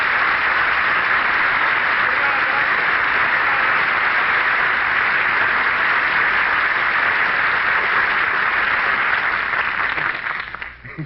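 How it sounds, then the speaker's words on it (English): A restaurant audience on an old-time radio comedy show bursts into loud, sustained applause that holds steady for several seconds before fading out at the end. "everybody in the restaurant applauds"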